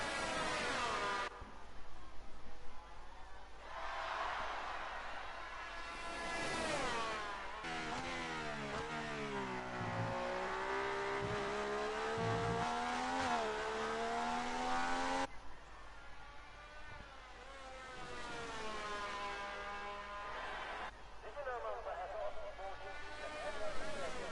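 Race car engine in a historical championship round at Italy in a racing video game, revving up and down through gear changes on a flying lap, with harmonic engine whine rising and falling under steady commentary.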